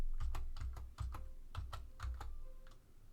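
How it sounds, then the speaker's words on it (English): Fingers tap out a short burst of keystrokes on a computer keyboard into a web browser, about a dozen crisp close clicks in quick irregular rhythm, with no voices. "in our browser, type in bread"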